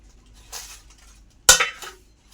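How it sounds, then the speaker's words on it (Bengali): A fish, covered with leaves, is flipped from a pan onto a plate: a soft shuffle, then one sharp clatter of dish against metal followed by a brief scrape, close and without speech. "আর একটা থালা বা ডিশ নিয়ে এইভাবে উল্টিয়ে দেবে"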